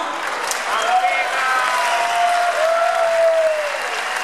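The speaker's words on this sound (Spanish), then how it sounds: "le vamos a dar un fuerte aplauso" A festival audience in La Guardia, Toledo, gives strong applause for the 2018 fiesta speaker, loud, sustained clapping from a close hall crowd, with a thin whistling tone gliding over the top.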